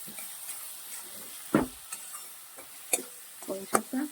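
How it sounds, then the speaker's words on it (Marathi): Spiced vegetable filling for vermicelli khichdi is sautéed in a pan, heard as faint sizzling under a series of sharp scraping spatula strokes scattered through the stretch. "हे सारं मस्त परतून आहे खूप मस्त फ्लेवर येत आहे"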